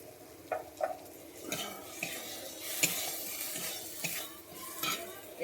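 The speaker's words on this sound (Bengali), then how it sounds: "আমি মশলাটাকে একটু কষিয়ে নিচ্ছি" Spices including Kashmiri chili powder and cumin sizzle and fry in a pan for a prawn and mushroom curry while a utensil stirs and scrapes against the metal in irregular strokes, close up, with no talk.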